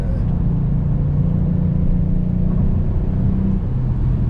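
A 2021 Kia Stinger GT1 AWD driven hard, its engine a loud, steady deep rumble with a sustained droning tone heard from inside the cabin, no voices.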